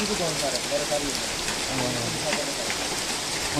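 Steady rain falls throughout during flooding, a dense hiss with scattered drops, while faint voices murmur underneath.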